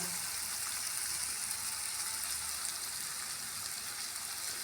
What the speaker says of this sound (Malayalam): അതിലേക്ക് ഉള്ളി പച്ചമുളക് വെളുത്തുള്ളി ഇഞ്ചി എല്ലാം ഇട്ട് നന്നായി വഴറ്റുക